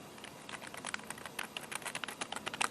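Rapid clicking on the keyboard of a default office PC, a close, quiet stream of crisp key taps in quick irregular rhythm, growing slightly louder toward the end, with no talk.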